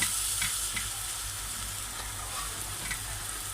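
Garlic ginger paste sizzles in a hot pan, a steady close-up frying hiss with faint stirring, no voices.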